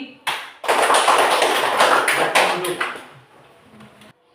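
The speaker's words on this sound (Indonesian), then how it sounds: "tepuk tangan sekali lagi" A group claps together in a classroom or lesson setting, a short burst of brisk, close clapping that begins after a couple of quick taps, swells for about two seconds, then tapers off with scattered claps.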